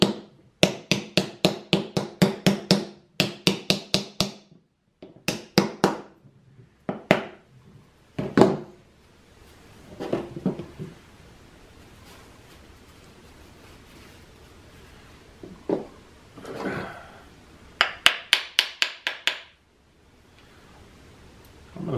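Rapid bursts of sharp hammer taps strike metal pins during a knife handle build, several quick runs of blows separated by pauses and a few scraping handling noises.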